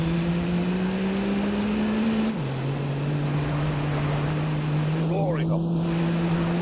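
A car engine at high altitude, running on oxygen, drones loudly and steadily, dropping in pitch for a moment before holding a strong, continuous roar, with a brief squeal near the end.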